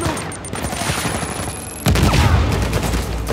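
Dense bursts of rapid gunfire crackle continuously in Uncharted 4 on PS4, with a sharp louder volley kicking in partway through, like a video game firefight.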